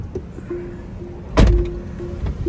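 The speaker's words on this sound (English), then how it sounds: "when I put my foot on the brake, the door closed for me" A Tesla Model X door closes automatically: a steady whirring motor tone runs, then the door shuts with a solid thump before the motor hum resumes briefly.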